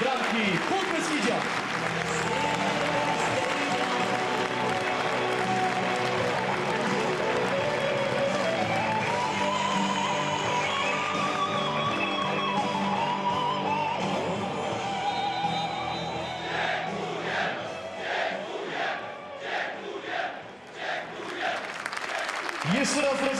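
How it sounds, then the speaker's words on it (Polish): A stadium crowd at a Polish Ekstraklasa football match, Podbeskidzie Bielsko-Biała against Piast Gliwice, applauds goalkeeper Lisek's 100th match with sustained loud clapping and cheering, under a public-address announcer's voice. "Brawa dla Liśka"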